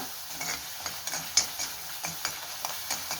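Chili powder and turmeric powder fry in a pan for a nethili (anchovy) fish kuzhambu, with a soft sizzle under repeated quick scraping stirs of a utensil, quiet and close, no voices.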